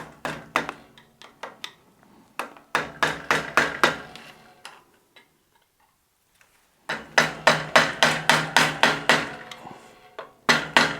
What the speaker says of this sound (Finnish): Sitten vähän taltalla naputetaan se